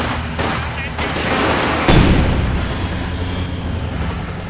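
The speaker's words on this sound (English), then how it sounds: "Our headquarters is taking enemy fire." Battle noise in Company of Heroes 2, a WWII strategy game, with gunfire and heavy thuds of artillery blending into a dense, continuous rumble, and a voice speaking over it.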